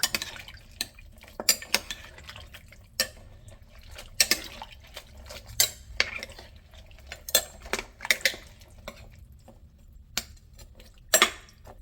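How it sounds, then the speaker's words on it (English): A spoon stirs a pot of Southern-style red beans, with irregular metallic scrapes and clinks against the pot and soft liquid sloshing, fairly close and with no talking. "then I'm going to give this a good stir."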